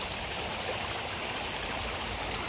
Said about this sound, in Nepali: पानी पनि सर बगिरहेको छ है